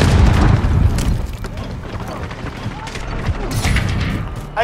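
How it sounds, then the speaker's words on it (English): A grenade explodes during online combat in Call of Duty: Modern Warfare, a loud booming burst with rumbling low end over busy battle noise, gunfire and radio voice callouts. "Grenade out."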